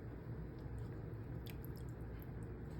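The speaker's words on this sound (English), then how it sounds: "We're gonna pour off this mixture, get rid of all those little bits" Avocado dye mixture poured off and strained to remove bits of pit, a steady low liquid wash with a few faint drips and squishy splashes near the middle, close and continuous.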